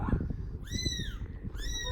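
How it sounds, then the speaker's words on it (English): A pet cat given as a gift meows twice, clear and fairly close, over a steady background hum with faint household noise. "It's your cat."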